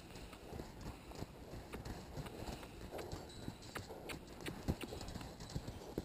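Mustang mare cantering in groundwork, hooves thudding in a steady, fairly close three-beat rhythm with faint talk in the background.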